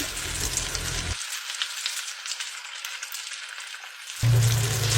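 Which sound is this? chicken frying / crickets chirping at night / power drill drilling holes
chicken frying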